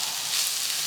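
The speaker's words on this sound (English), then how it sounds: "I like that sound of things that are sizzling." Cauliflower sizzles and fries steadily in a hot pan as a spatula stirs it, a dense bright crackle held close and loud throughout, with no voices.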